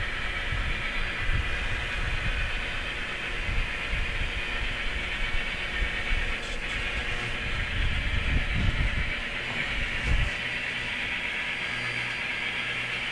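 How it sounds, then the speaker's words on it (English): A model train rumbles steadily along its track, a continuous rolling clatter with a hissy background, close by and fairly loud, no voices. "the train's going to continue on down this way"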